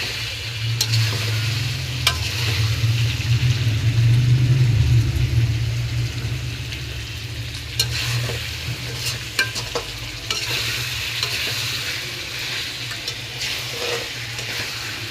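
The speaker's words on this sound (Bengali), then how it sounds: "দিয়ে মাংসটা একটু কষিয়ে নিছি। এরপর হালকা একটু ঝোল দিয়ে কষিয়ে নেব" Beef is stirred and sautéed with onion paste in a pan, giving a steady loud sizzle over a low constant hum, with occasional scrapes and taps of the spoon against the pan throughout.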